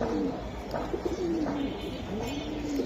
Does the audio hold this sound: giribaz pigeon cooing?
yes